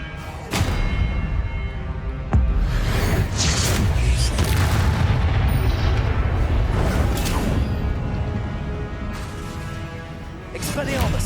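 Expelliarmus disarming spell cast repeatedly during a duel in Hogwarts Legacy, heard as a string of loud booming impacts and crashes with dense battle noise, voices shouting between hits.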